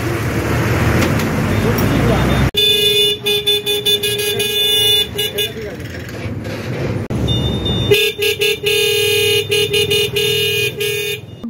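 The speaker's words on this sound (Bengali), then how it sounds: "গলসিতে বাইকের হর্ন লাগানো হচ্ছে।" Motorcycle horns being fitted and tested at a roadside shop ring out in loud repeated toots and sustained blares amid busy traffic noise, with intermittent pauses between bursts.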